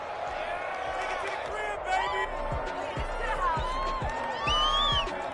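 A stadium crowd at a Jaguars American football game roars and cheers steadily, with whistles and shouts rising above a dense background of noise.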